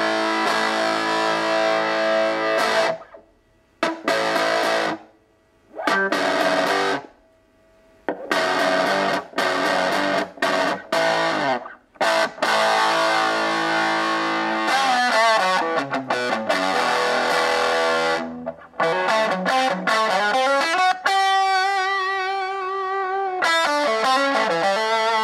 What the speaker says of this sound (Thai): เดี๋ยวทีนี้เราฟังเสียงแตกมั้งนะฮะเสียงแตก